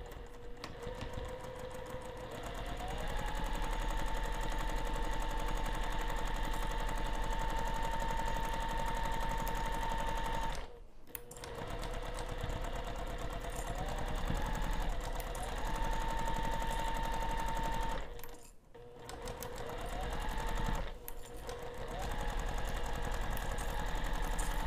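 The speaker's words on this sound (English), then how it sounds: "we're just going to be sewing around the entire outer edge using a 1/4 inch seam allowance." A sewing machine stitches piping around the outer edge of a piece at a quarter-inch seam allowance, a loud, continuous rapid rattle running close by, pausing briefly twice before picking up again.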